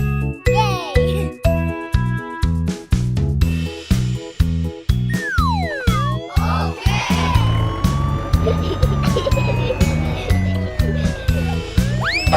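A cartoon police car siren wails in an animated nursery rhyme, rising and falling over a bouncy plinking musical beat, with a voice chiming in.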